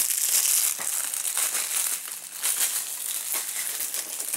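Plastic shrink wrap is pulled and crumpled off a Saints Row 4 game box, a continuous close crinkling with sharp crackles and rustling bursts throughout.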